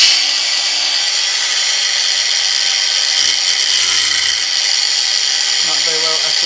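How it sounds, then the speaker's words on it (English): Angle grinder cutting into an alloy bicycle stem, a loud, continuous high-pitched whine and grinding rasp held throughout, close up, with a brief voice toward the end. "But where's my angle grinder? I'm not sure how well this is going to cut the alloy."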